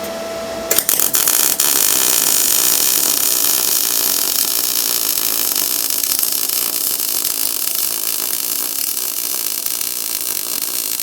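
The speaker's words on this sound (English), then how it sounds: "I'm going to try welding a little bit quicker this time." An R-Tech MIG181 digital MIG welder welding a joint, a loud, steady crackling buzz that starts abruptly after a brief quiet moment and holds close and continuous, with no voices.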